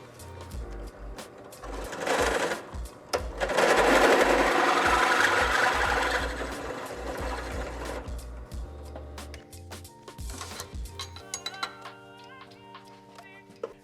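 A drill enlarging bolt holes from about 3/8 to 7/16 inch for a Ford S197 Mustang battery relocation bracket: a steady, close whirring grind that loads up and eases off for several seconds, then fades into scattered clicks and handling.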